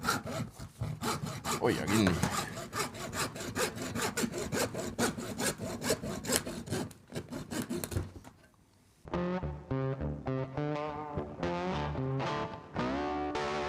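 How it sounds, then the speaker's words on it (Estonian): A hand saw rasps back and forth through a bone-in tomahawk beef steak in steady rhythmic strokes, loud and near, with a short pause before a second run of quicker, tonal strokes; a person speaks briefly. "Täna hakkame Martiniga konti saagima"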